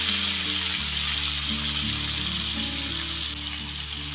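Five medium tomatoes, cut into large chunks, frying in a hot pan of roasted spices for a spicy tomato-garlic chutney: a loud, continuous sizzle with no talk, steady for the whole few seconds.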